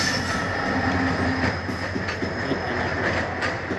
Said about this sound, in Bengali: ওই যে দেখেন ট্রেন আইতাছে, হর্ন মারতাছে, আওয়াজ শোনা যাচ্ছে।